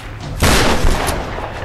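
A single loud, booming shotgun blast from the Tomb Raider 2013 video game cracks out suddenly and rings off briefly, with no talking.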